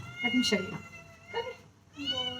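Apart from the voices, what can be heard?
cat meowing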